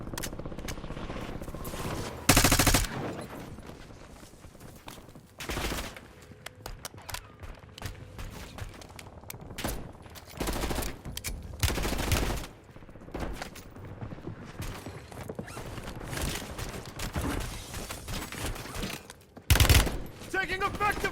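Gunfire in the Call of Duty video game, with sharp bursts of automatic fire and single shots spread irregularly across a battle, some loud and close, others faint, amid game voice callouts.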